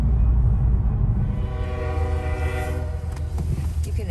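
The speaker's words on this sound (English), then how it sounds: "The train that was heading through was a northbound BNSF freight heading for Vancouver, British Columbia." A northbound BNSF freight train rolls past close by, its horn sounding in long sustained blasts over the steady heavy rumble of the wagons, loud throughout.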